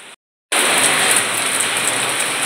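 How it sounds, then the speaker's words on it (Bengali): Heavy rain pours down steadily as a dense, loud wash after a brief silent gap at the start, with no voices. "এদিকে আবার জোরে জোরে বৃষ্টি হচ্ছে"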